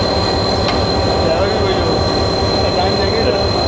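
Mehran Express passenger train rolls through a station with a loud, continuous rumble of wheels on rails, steady throughout and close by.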